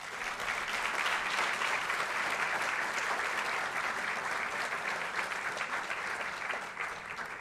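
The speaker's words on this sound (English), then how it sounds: "How about another quick round of applause for support employees and teachers of the year?" An audience applauds at a school district awards ceremony honoring support employees and teachers of the year, a dense, steady ovation of many hands that holds strong for about seven seconds before easing slightly at the end.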